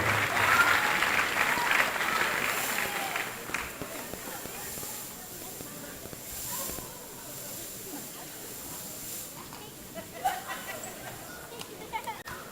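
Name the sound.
crowd applause at wrestling event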